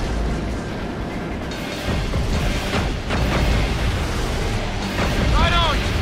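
A missile blows up in the PS3 game Iron Man, a dense rumbling boom under continuous busy in-game noise with a swelling low roar and brief chirping electronic sounds near the end.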